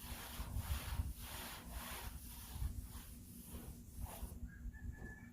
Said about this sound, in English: So I'm going to rub it until I run out of oil.